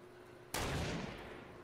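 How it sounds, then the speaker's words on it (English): A single sharp sniper shot rings out in a Fortnite match, a sudden loud crack followed by a second of broad rumbling echo, heard alone without speech. "Oh, I'm getting sniped at."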